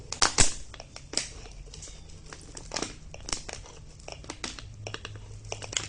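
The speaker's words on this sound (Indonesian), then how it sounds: "kita padatkan dengan stick. Cara memadatkannya kita dorong melalui pinggir atau samping botol ya" Plastic scraps crinkle and crackle as a stick presses them down into a bottle to pack an ecobrick, giving irregular close crumpling and sharp crackles throughout, with no talk.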